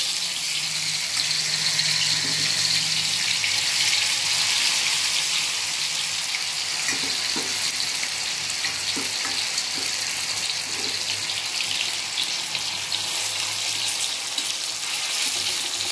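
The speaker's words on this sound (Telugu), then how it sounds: "ఇప్పుడు మనం ఫ్రై చేసుకుందాం. ఆయిల్ కూడా పెట్టేశాను, ఇందులో ఒక్కొక్కటిగా వేసుకున్నాం" Pomfret fish pieces frying in hot oil, a continuous loud hissing sizzle that holds steady throughout, with a few faint clinks in the background.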